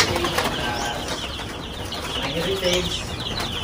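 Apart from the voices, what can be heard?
chicks peeping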